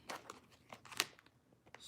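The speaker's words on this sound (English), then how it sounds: "shuffle up some cards here." Tarot cards being shuffled close by, a soft run of papery riffles and flicks with one crisper snap midway, quiet and with no talking.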